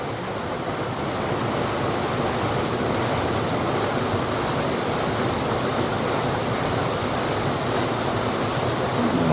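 A powerful waterfall roars beside a cave, a dense, loud, unbroken rush of water that fills the air evenly from start to finish with no voices.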